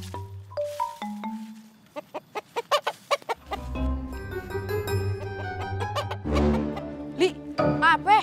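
Chickens clucking close by in a rapid series of sharp clucks and squawks that grows busier and denser partway through, with a few brief voices mixed in.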